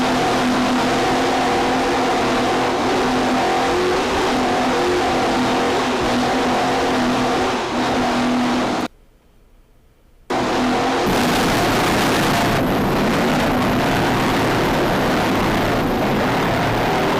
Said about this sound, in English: Still pretty impressed to see this V-bottom with 750 horsepower engines keeping up in this rough water.